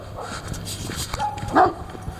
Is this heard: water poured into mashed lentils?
no